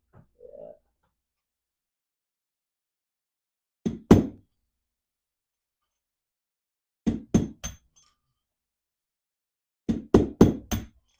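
Sharp hammer knocking on both sides of a vintage British motorcycle part in three groups: a double knock, then four quick knocks, then five rapid knocks, each crisp and close with silence between.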